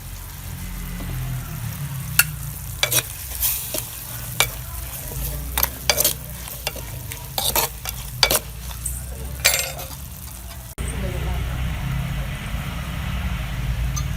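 Chili thokku sizzles steadily in a pan while a spoon stirs it with sharp, intermittent scrapes and clacks. Near the end the stirring stops and only a continuous sizzle remains.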